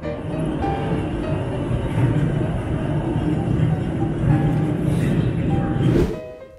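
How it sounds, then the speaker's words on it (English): Train passing close by, a dense steady rumble with rattling wagons and a faint high squeal, then cutting off abruptly near the end. "T is for Train."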